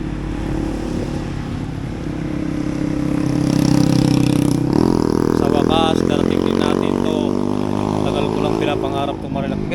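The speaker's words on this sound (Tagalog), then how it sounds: "Parang lantakan tunog ng tambutso." A loud motorcycle engine drones up close, its exhaust rising in pitch as it revs, with voices talking over the rumble.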